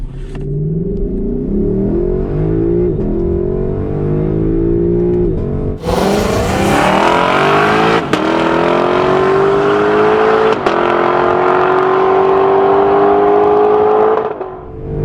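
Lexus LC500 Convertible accelerating hard on a race track, loud close engine revving that climbs in pitch, a sharp gear change partway through and then a sustained rising roar, with no voices.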